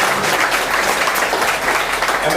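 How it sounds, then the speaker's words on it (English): An audience on a Hollywood Studios backlot tour at Walt Disney World applauds, a loud, dense, steady round of clapping that fills the whole short stretch. "Go and get that nice round of applause."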